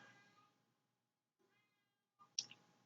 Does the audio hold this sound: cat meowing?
yes